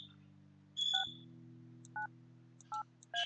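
Telephone keypad dialing in the video game Kathy Rain: a hum with a dial tone, then a run of short, clean DTMF beeps at spaced intervals, close and clear, with no voices.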